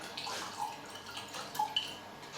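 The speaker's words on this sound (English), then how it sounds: "Pour it out through the crumbled cork." Wine poured from a bottle through a crumbled cork gives a faint, uneven trickle with a few distinct drips, quiet and close.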